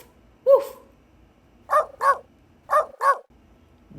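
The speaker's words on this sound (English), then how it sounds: "No dog said, woof, woof." A dog barks close by: a single bark, then two quick pairs of sharp barks with short gaps between them, in a quiet room with no talking.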